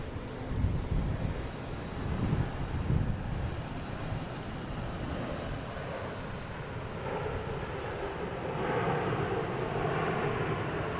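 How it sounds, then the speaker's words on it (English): A JetBlue Airbus A220 jet airliner bound for Orlando at Boston Logan, its steady broadband engine roar rising a little toward the end, with wind buffeting the microphone at the start. "Now we got JetBlue heading to Orlando in A220."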